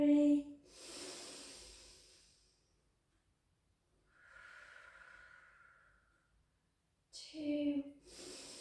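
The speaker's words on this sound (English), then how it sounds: "Four more breaths" Slow, deep breaths during a Pilates strength and balance exercise: a few long, airy exhales and inhales close to the mic, separated by quiet pauses, with brief voice sounds at the start and end.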